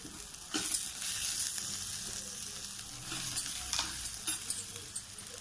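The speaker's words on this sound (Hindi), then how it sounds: "अब हम भून लेंगे बेसन को इसी में।" Besan roasting in a pan with ground coriander and turmeric for a paneer curry: a soft, even sizzle under repeated scraping stirs, with a few louder spoon knocks toward the end and no speech.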